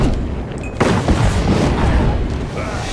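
A fire spell cast in Kingdoms of Amalur: Reckoning erupts as a loud, sustained whooshing burst of flame, dense and booming, filling the whole moment in the foreground.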